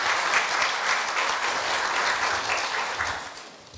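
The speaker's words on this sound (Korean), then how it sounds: "곽기영 과장님을 큰 박수로 맞아주시기 바랍니다." A Korea University audience at a staff retirement ceremony gives sustained, dense applause for a retiring section chief, with even clapping that holds steady before tapering slightly at the end.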